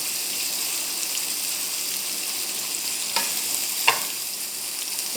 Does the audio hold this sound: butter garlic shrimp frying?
yes